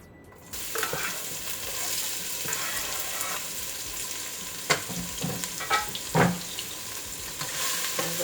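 A large diced yellow onion frying in about two tablespoons of olive oil for eggplant parmesan: a sudden burst of steady sizzling after a quiet start, close, with occasional spatula scrapes and stirring knocks.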